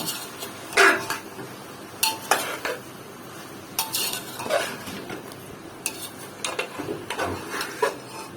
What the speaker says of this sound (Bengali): এটা এখন আমি 5-6 মিনিট ভালোভাবে কষিয়ে নিব।